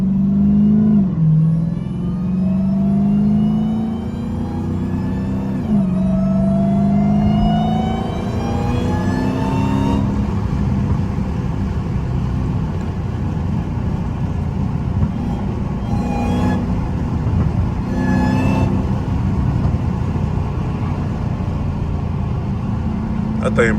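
A 900-horsepower Dodge Hellcat with a supercharger howls while being driven, its rising whine climbing in pitch through repeated accelerations over a heavy engine rumble, recorded close from inside the car.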